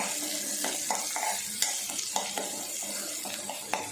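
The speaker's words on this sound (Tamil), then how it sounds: "வெங்காயத்தை வதக்கி எடுக்கலாம்" Three finely chopped small onions sauté in oil with mustard seeds and urad dal for a chutney, a gentle steady sizzle broken by occasional scraping stirs and light clicks of a spoon against the pan.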